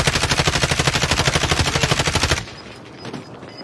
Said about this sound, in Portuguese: Atira nos caras, nas costas.